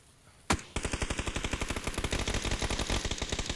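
Automatic gunfire in the battle royale game PUBG: one sharp shot, then a long rapid burst of evenly spaced rounds, loud and close, with no talk over it.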